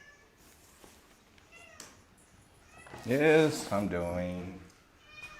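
Pet cats meowing before being fed, a loud drawn-out meow close by, mixed with a voice talking in short phrases.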